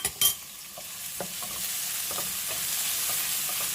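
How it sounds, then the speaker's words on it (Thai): Garlic and ginger sizzle steadily in hot olive oil, with a few quick scrapes and taps of a utensil stirring them in the pan, close and continuous. "ใส่กระเทียมกับขิงลงไปผัดค่ะ"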